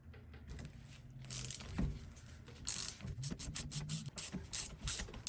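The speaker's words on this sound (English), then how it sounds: "I've got this big adjustable wrench, and I'm going to hold counter pressure to where I can loosen it" An adjustable wrench works loose the top hat on a Radflo shock absorber during a rebuild, giving close metallic clicks, scrapes and rattles in short irregular bursts, with no talking.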